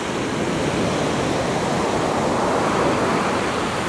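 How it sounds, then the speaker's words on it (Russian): Stormy sea waves break steadily on a Spanish beach, a dense continuous roar of surf heard close and loud with no voices over it. "И боюсь этих волн."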